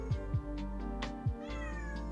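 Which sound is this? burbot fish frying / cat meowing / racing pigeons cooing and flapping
cat meowing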